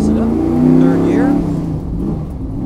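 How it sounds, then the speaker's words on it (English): A NASCAR stock car driven at The Mickyard in Orlando, Florida revs hard and accelerates through the gears, its engine note climbing and dropping at each shift, loud and close under a voice talking over it. "Go to second gear, Glenn."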